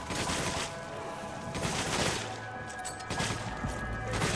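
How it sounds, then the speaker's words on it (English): Machine gun fire in Resident Evil 5: bursts of rapid gunfire with crackling impacts, fairly close, in uneven clusters across the span, no voices. "Machine gun bullets."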